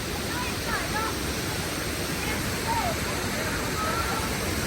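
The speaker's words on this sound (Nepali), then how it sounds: "यो चट्टानबाट चाहिँ पानी तल आयो भने चाहिँ त्यो झरना नै हो।" A steady, dense roar of a waterfall pouring down a rock face in Mustang, Nepal, fills the whole clip, broad and unbroken, with faint chirps barely audible above it.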